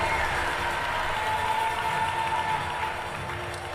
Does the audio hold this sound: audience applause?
yes